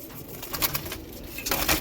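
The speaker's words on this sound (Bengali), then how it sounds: "কাছে পায়রাটা মেল পায়রা আছে প্রথমের দিকে পায়রাটা মেল আছে পরেরটা ফিমেল আছে" Pigeons, a male and a female, coo close by in soft repeated calls over a noisy background with light rustling.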